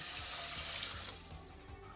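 One and a half cups of water poured into a pan of buckwheat, a close, bright gush that eases off after about a second.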